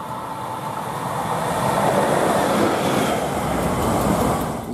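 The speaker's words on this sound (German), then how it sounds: "das war gerade eine Leerlauf-Lok" An idling locomotive at a train station gives a steady, broad diesel rumble and rail noise that swells slightly and holds evenly, with no voices.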